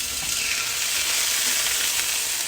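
Pork chops sizzle steadily in a frying pan, a dense, constant crackle of hot fat filling the short stretch at close range with no talking.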